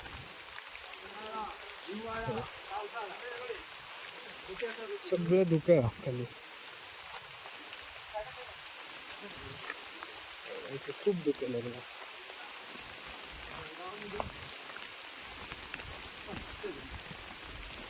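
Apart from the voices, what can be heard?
light drizzling rain on a Sahyadri mountain trek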